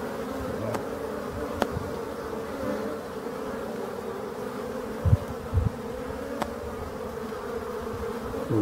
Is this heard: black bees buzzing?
yes